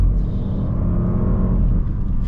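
Audi S8 with a stage 1 tune accelerating hard, a loud, close, deep engine roar building steadily with a heavy low rumble and no talk.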